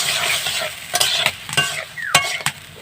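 Tomatoes and onions sizzle in a frying pan while a utensil stirs them, scraping in repeated bursts against a steady hiss of frying, close and fairly loud with no voices.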